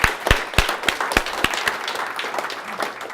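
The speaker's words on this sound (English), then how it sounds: "Round of applause, Carl." A startup event audience claps for a speaker with a few sharp, distinct claps near the start, then thinner, scattered clapping that gradually fades.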